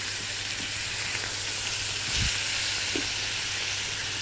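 Chicken and onions fry for maqluba in a hot pan, producing a loud, steady sizzling hiss with a couple of faint stirring knocks underneath.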